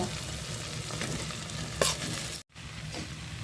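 Boiled potatoes frying in spiced oil for a khasta singara filling, a steady close sizzle with a sharp stirring scrape midway and a brief break near the end, no voices.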